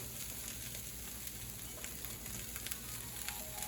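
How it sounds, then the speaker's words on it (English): Cashews and cooked tofu sizzle in a stir fry, giving a soft, steady hiss that stays quiet and close. A sharp clatter comes right at the end. "it's time to add the rest of the ingredients for the stir fry"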